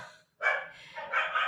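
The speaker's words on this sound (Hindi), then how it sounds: "कुत्ते तो भौंकते रहते हैं, है ना," A dog barks twice in quick succession, near and fairly loud, with a short yip-like quality, after a brief silent gap at the start.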